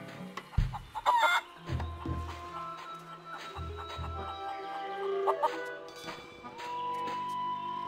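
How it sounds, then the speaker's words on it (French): A wild chicken in the pirate-island adventure game Curse of Monkey Island clucks in a run of short bursts over game music, close and clear, then the clucks give way to music. "Poulet sauvage de l'île des pirates."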